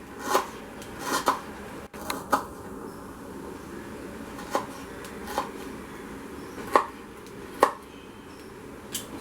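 Onion and ginger being roughly chopped on a board, about nine sharp knife strikes spaced irregularly over a low steady background hum, close and moderately loud, no talking.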